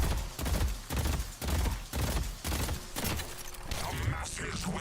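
Rapid bursts of weapon fire in the hero shooter game Deadlock repeat in a steady rhythm of loud shots, ending in a softer mechanical, shimmering effect.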